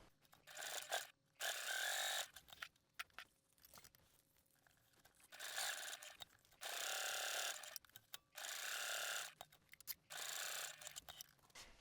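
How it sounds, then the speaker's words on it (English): A sewing machine bastes along the open edge of backpack strap webbing, running in several steady bursts of a few seconds each with short pauses between them, close and clear with no voices. "I'm going to baste along this edge that's open to keep it together"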